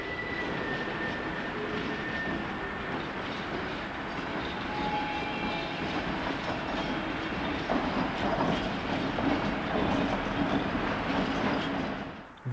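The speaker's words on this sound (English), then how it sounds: "number 63145 runs over the hump between the sorting sidings and the departure yards" Locomotive 63145 rolls over the hump between the sorting sidings and the departure yards of a rail yard, a steady rumble with faint clicking of wheels on rails that builds slightly before cutting off.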